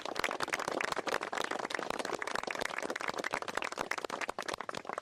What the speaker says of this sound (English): Andy, a round of applause for Andy.